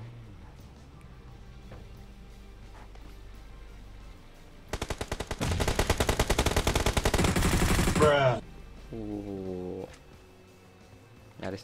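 Sustained automatic gunfire in PUBG, a dense rapid burst of shots for about four seconds, loud and close, ending abruptly, followed by a rising mechanical whine.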